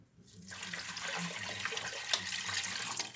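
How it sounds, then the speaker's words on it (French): Water pours into a saucepan of pearly, translucent rice for pilaf. After a moment of quiet, a steady, close splashing stream builds and carries on without break. "Je vais ajouter mon mouillement, à savoir les 40 centilitres d'eau"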